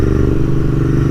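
A Royal Enfield Continental GT650 twin motorcycle on the move, its engine a loud, steady low-pitched drone with a throbbing rumble, up close and continuous for a brief moment, no voices.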